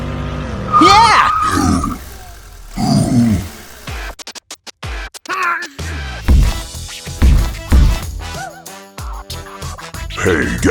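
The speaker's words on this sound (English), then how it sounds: "The dinosaur roared in anger," An angry cartoon dinosaur roars in several loud, growling bursts, mixed with other cartoon sound effects and brief voices.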